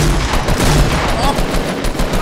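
Dense, continuous gunfire from a shotgun in the video game Fortnite crackles through the whole stretch, with rough overlapping blasts and little let-up, and faint voices sit underneath.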